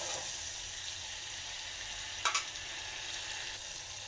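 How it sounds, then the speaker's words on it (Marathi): Garlic, salt, karale (niger seed), chili and peanut paste frying in oil, a quiet, even sizzle with a couple of brief clinks near the middle, no talking. "आता हे छान असं दोन मिनटं आपण छान तेल सुटेपर्यंत फ्राय करून घेऊ"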